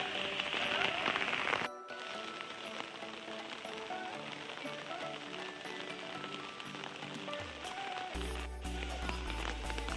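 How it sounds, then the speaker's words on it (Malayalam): Heavy rain falls outside Trivandrum zoo, a quiet, steady patter of drops on surfaces that continues through the whole stretch alongside other faint background sounds. "ഇന്ന് ഭയങ്കര മഴയാണ്."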